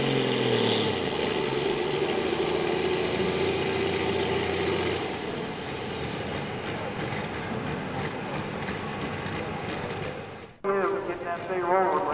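A Case 1175 tractor at a tractor pull revs its turbocharged engine hard in a loud, sustained roar that eases partway through, with a crowd and an announcer talking over it near the end.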